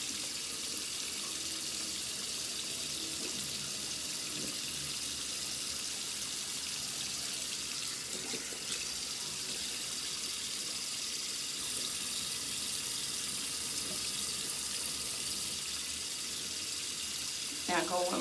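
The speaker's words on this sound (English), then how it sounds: "Wet my hands." Tap water runs steadily into a bathroom sink as hands are wet, a constant broadband hiss lasting throughout with faint handling noises and a brief splash near the end.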